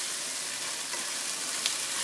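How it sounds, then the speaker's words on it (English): Garlic and ginger paste sizzles in a hot frying pan, a steady soft hiss running throughout at low volume with no voices. "I've just added in the garlic and ginger paste"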